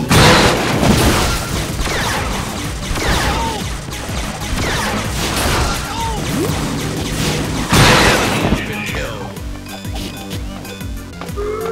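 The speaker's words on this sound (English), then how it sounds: "Your turret is destroyed." A turret collapses in a loud game battle in Awesomenauts, dense crashes and booms layered over music and effects, then settling into quieter background sounds.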